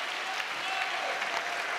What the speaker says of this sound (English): Deserves the standing applause.